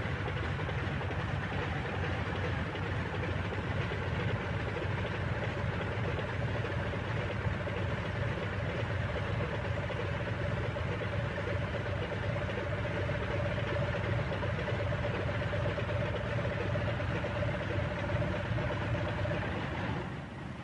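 An F6F Hellcat's aircraft engine idles while taxiing, a steady unbroken drone with a low, even hum that holds for the whole stretch, with no voices over it.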